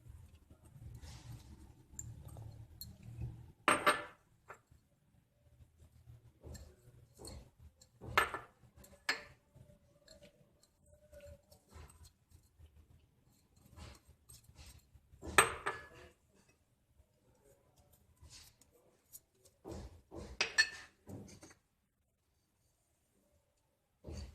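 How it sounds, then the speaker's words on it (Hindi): Mashed potato kebab mixture with spices and egg is stirred in a bowl, giving quiet, scattered clinks and scrapes of a spoon against the bowl, with short pauses between. "इसको अच्छी तरीके से मिक्स करेंगे।"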